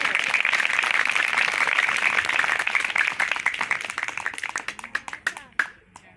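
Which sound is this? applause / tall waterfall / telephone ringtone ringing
applause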